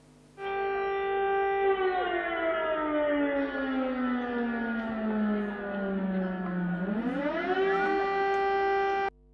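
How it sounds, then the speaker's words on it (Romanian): A civil defense siren sounds for a red-code flood simulation exercise in Hunedoara. It is one loud, sustained wail that slowly falls in pitch, then rises again before cutting off, with no talking over it. "locuitorii municipiului de pe Cerna au auzit sirenele care anunțau simularea unui"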